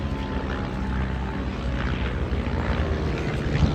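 Propeller aircraft performing an aerobatic display at the Eastbourne International Airshow, a steady, distant droning engine wash with broadband roar and no speech.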